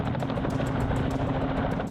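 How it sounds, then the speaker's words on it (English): A helicopter flies overhead during a fast wildlife capture outdoors, a steady loud rotor thrum with rhythmic blade chop that holds unbroken for about two seconds. "hear the helicopter."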